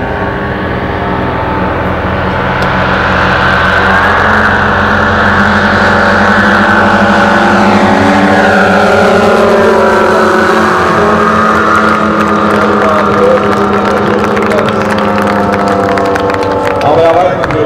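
Engines of a giant radio-controlled B-29 bomber model in flight at an air show, a loud continuous multi-engine drone with shifting pitch that stays strong and steady throughout, with voices in the background.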